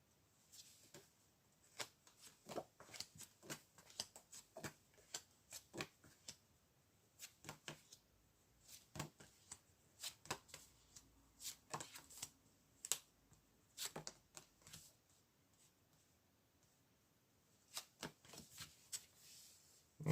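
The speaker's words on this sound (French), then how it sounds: "on va essayer de tirer des cartes sur l'interdiction pour en apprendre un peu plus" Tarot cards are shuffled and handled in quiet bursts of rapid papery flicks and riffles separated by short pauses, close and soft with no talking.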